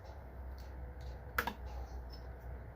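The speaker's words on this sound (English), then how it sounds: "So you can hear it activating." A fuel injector clicks as a cheap eBay injector cleaning tool pulses it, a faint, sharp single click over a low steady background hum.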